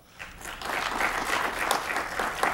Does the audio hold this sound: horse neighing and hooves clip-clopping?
no